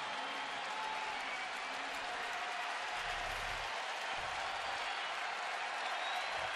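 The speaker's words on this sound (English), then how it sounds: "This crowd up on its feet." Crowd noise at a Seattle at Cleveland baseball game with about 34,000 fans: a steady, distant wash of cheering and applause that stays even throughout, with faint low murmurs underneath.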